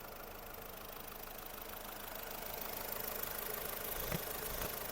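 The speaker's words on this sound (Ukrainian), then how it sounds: "Робота двигуна." A Volkswagen Golf 5 engine idles steadily up close, a continuous even hum with a faint click near the end.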